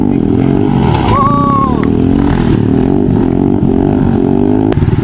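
A motorcycle ridden in a freestyle wheelie-circle stunt in Khulna roars loudly and continuously close by, its engine note shifting slightly, while voices are heard faintly over the noise.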